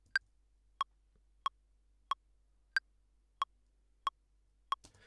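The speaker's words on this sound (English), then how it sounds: "So that beeping that you hear is called the metronome" Ableton Live's metronome clicks out a steady beat at 92 BPM, eight crisp, evenly spaced beeps alone in near silence, with the first and fifth slightly higher in pitch as accented downbeats.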